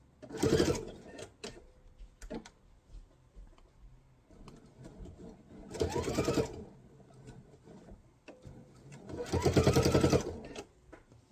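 A sewing machine stitches quilt binding in three short bursts of rapid mechanical whirring, each a second or so long, with quiet handling sounds and a low voice speaking between them.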